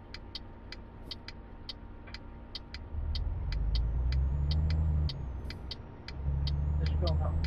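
A Renault truck engine in Truck Simulator 2 rumbles low and steady, swelling louder as it pulls away, with a repeating ticking indicator and faint traffic-light chirps over it.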